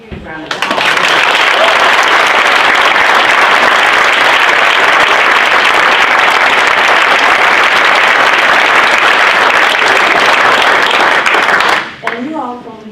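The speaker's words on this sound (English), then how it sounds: "I need to give these ladies another huge round of applause." An audience at a fishing derby gala breaks into a long, loud, sustained round of applause that fills the room for about eleven seconds before fading out abruptly.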